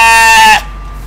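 A Dorper sheep lets out a single loud, close, harmonic bleat lasting about half a second, which cuts off abruptly into quiet.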